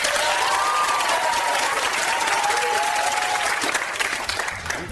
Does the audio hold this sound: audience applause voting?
yes